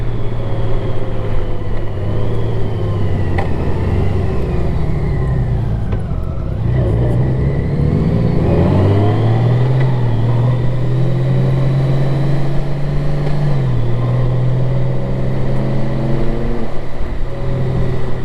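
A Honda Goldwing motorcycle engine hums steadily while riding along winding roads, its droning pitch rising and falling with throttle and engine braking, loud and continuous throughout.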